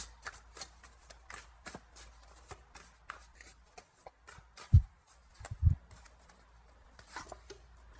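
Tarot cards shuffled by hand for another draw, a series of soft, close riffling flicks and taps at an irregular rhythm, with two louder thumps midway.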